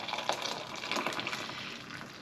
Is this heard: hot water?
yes